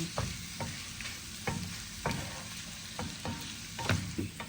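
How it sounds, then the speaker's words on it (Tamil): Onions sautéing in a hot pan for a Sri Lankan onion sugar sambal, a steady close sizzle broken by repeated scraping stir strokes, with no talking. "இப்போ பாருங்கள் எல்லாம் வதங்கிட்டு எல்லாம் வதங்கி"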